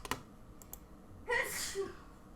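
A single sharp sneeze bursts out after a few faint clicks and taps, loud and close, then trails off into quiet room noise.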